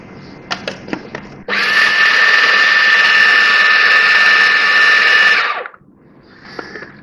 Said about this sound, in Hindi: ये चने 2 टेबल स्पून, इसको मैं ब्लेंड करूँगी।